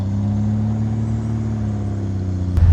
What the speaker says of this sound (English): give it some gas, rev it up